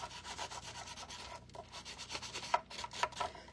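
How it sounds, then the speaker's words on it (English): Scuffing the smooth back of a framed cameo craft piece in close, steady rubbing strokes, like sandpaper on a hard surface, with a few sharper scrapes near the end. "And all the high points need to be scuffed because that's where our glue is going to go."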